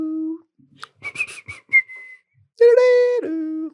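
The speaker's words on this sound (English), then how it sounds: "you are a good whistler" A person whistles a short tune: a low held note, a quick run of chirpy notes, then a long bright sustained pitch with a slide down at the end, clear and close with brief pauses between phrases.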